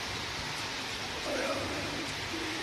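Steady evening rain over Bangalore, a soft broadband hiss of falling drops that stays even throughout, with a faint voice murmuring low beneath it.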